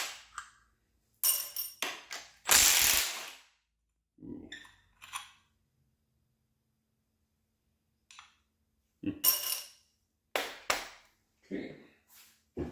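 Ratchet wrench loosening intake manifold bolts on a high-performance 283 engine during teardown, heard as a few short, sharp clicking bursts with pauses between them, close by.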